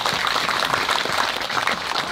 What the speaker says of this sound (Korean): 우리 사단 장병과 사단장께 박수 한번 드립니다